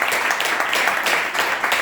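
An audience at a novel presentation bursts into steady applause, dense clapping from many hands filling the room at close range throughout.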